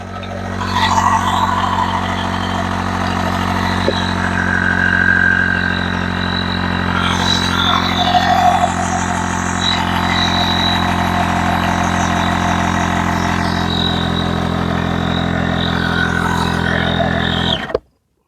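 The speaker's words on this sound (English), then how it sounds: "the pump automatically shuts off when it gets to pressure" An electric air pump inflating a Sea Eagle 393 inflatable kayak, a loud, steady motor drone with a constant hum that runs nonstop and then cuts off abruptly as the pump reaches pressure and shuts itself off.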